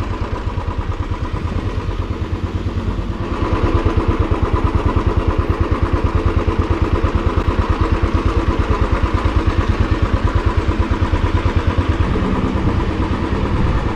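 A motorcycle engine chugs with a rapid, even pulsing beat while riding off-road on a narrow hill track near Darjeeling, steady and close, growing slightly louder after a few seconds.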